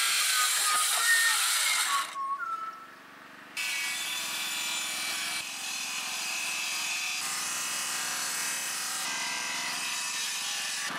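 A saw cuts wooden boards from a sawn tree trunk for bookshelves, a steady rasping drone that breaks off briefly, then resumes and runs continuously.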